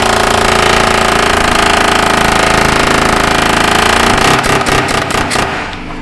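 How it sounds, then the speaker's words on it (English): Air hammer driving a chisel against the lock ring of an in-tank fuel pump on a 2016 GMC Sierra, a loud, continuous rapid hammering that breaks into a few separate sharp blows near the end before fading. "if you are using an air hammer and you're using a chisel"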